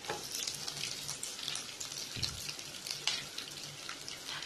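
Chopped onions frying in hot oil for a bitter gourd curry give off a steady, close crackling sizzle with scattered pops and spits, heard alone without voices.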